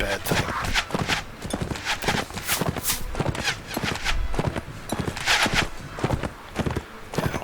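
Horse hooves clip-clopping in Mount and Blade Warband, a steady rapid stream of close, loud hoofbeats from a galloping mount with a busy rumble of battle noise beneath.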